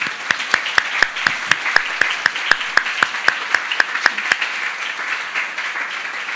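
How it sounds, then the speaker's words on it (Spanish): A church congregation claps in unison, sharp, evenly spaced claps about four per second over a soft wash of scattered applause, fading out after about four and a half seconds. "Le damos un aplauso al Señor"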